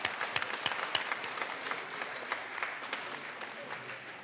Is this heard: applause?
yes